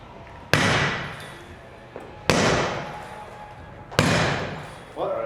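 A tool strikes a pane of hurricane-resistant school guard glass in a demonstration: three sharp, loud impacts at roughly even intervals, each with a bright crack and a long ringing decay, and a fourth hit just beginning at the end.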